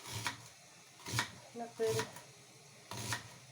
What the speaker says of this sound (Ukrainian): Нарізаю дрібненько